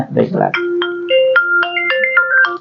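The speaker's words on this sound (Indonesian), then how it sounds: "Ada telepon, diangkat aja dulu." An incoming phone call's ringtone plays a bright electronic melody of short, clear tones in a steady rhythm, loud and close, with a brief burst of talk just before it starts.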